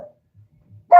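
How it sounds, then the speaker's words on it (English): A pet dog named Sonny gives a single loud, close bark after a few faint low sounds, with no talking around it. "Why are you being weird and barking, Sonny?"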